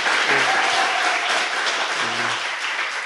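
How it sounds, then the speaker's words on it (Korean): A studio audience on a Korean talk show breaks into loud, dense applause that stays continuous for about three seconds, with brief voices faintly audible beneath the clapping. "박수!"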